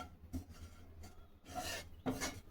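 Coconut filling for gujiya being stirred and roasted in a pan, heard as soft, intermittent scraping and rasping strokes of a spoon against the pan, faint and close, with no talking.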